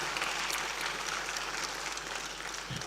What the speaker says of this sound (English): Let's clap for this young lady.